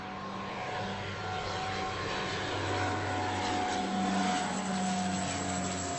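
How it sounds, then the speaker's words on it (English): An airplane engine drones steadily and loudly throughout, a continuous propeller-like hum with a low throb that swells slightly toward the end, with no voices. "what do you feel about plane noise?"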